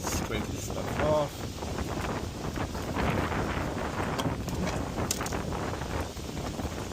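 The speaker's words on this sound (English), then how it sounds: "It's very windy. I don't know if you guys hear me very well" Strong outdoor wind buffets a microphone throughout during a transmission oil change on a 2011 Mazda 3i, a steady, rumbling roar with gusty swells that stays loud from start to finish.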